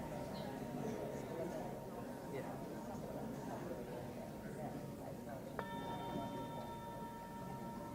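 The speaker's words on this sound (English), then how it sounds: "I'll ring a bell." A single bell rung to close a group discussion strikes clearly partway through and then rings on with a lingering tone over the soft murmur of people talking to one another.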